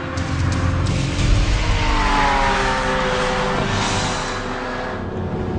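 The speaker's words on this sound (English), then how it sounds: "Here we are in the Lamborghini Aventador LP 700-4" A Lamborghini Aventador LP 700-4 on a twisty, undulating two-lane road gives a loud, sustained engine roar that swells and then eases off toward the end.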